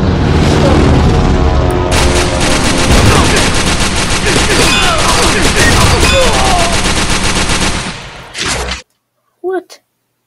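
Sustained, loud, dense gunfire from a sniper video game, rapid shots overlapping with booms for about eight seconds, then cutting off abruptly, with a few short separate bursts of sound afterward.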